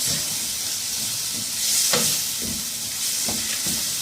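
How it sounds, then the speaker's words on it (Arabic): Garlic, ginger and spices sizzle and hiss loudly in a pan while being stirred for Indian samosas, with occasional scraping sounds and no talking. "نعملها بقى تشوحها تشويحه حلوه كده بالبهارات"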